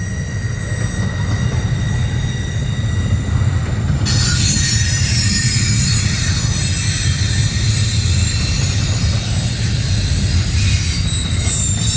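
A Norfolk Southern intermodal freight train rolls past at Wilmerding, Pennsylvania, its heavy rumble and rail noise loud and continuous, with wheel squeal rising partway through as the cars keep passing close by.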